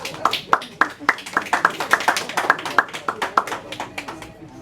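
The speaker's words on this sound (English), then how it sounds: "Give a round of applause, please" Applause for a speaker at a church conference training session: a modest, fairly rhythmic round of individual claps from a small audience, close and distinct, fading out at the end.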